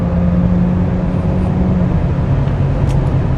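A Hyundai Sonata Hybrid sedan picks up speed during a handling test drive, heard from the cabin as a loud, steady engine and road drone with a low hum that holds throughout.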